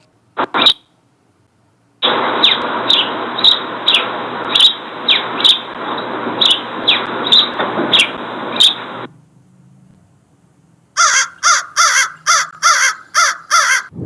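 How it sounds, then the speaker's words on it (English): Crows caw loudly and close by in a quick run of harsh calls over a rushing noisy background. A second burst of rapid caws follows after a short near-silent gap. "Chirp, chirp, chirp, say the sparrows, chirp, chirp, caw, caw, say the crow, wake up."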